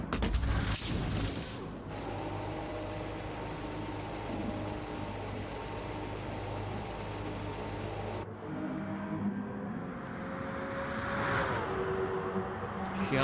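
A Porsche race car driving at Monza during an endurance race, a steady engine drone passing at moderate distance and fading after a few seconds into softer ambient noise, with a commentator's voice over it.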